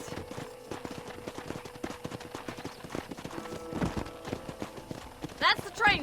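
Horse hooves clip-clop in a steady trotting rhythm in the video game Red Dead Redemption, close by, with voices talking over them and a brief whinny near the end.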